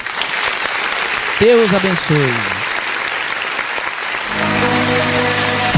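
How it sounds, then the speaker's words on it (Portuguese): A church congregation claps steadily throughout, loud and close, during an online worship service. A voice speaks briefly over the clapping, and sustained tones join near the end. "Vamos aplaudir o nome do Senhor."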